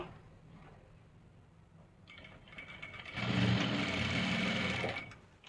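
A sewing machine runs a seam on dhoti salwar fabric, starting quietly and swelling into a loud, steady whir for a couple of seconds before it stops.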